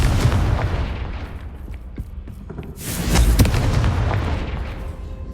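Explosive Confringo spell blast in Hogwarts Legacy, a deep booming burst amid dense rumbling combat noise, with a louder impact peak partway through.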